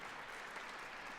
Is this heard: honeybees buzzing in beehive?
no